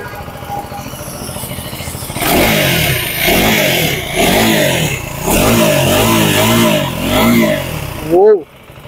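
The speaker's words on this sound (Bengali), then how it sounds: "এবার তোমাদের একবার এক্সজস্ট সাউন্ডটা শুনিয়ে দিই" A KTM Adventure 390 motorcycle fires up and its exhaust is revved in a series of loud, rising and falling blips close by, ending with one sharp rev before it drops off, while someone speaks nearby.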